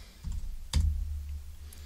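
Two sharp keystrokes on a computer keyboard, the second louder, typed while entering a prompt into an AI plugin in IntelliJ; close by, with a faint low hum between them.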